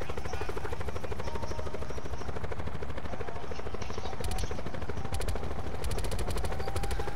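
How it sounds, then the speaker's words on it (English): Call of Duty helicopter battle with rotor chop thudding steadily beneath dense bursts of gunfire, a continuous loud wash of combat noise with rapid crackling shots. "There's a helicopter over where we just were. Helicopter battle!"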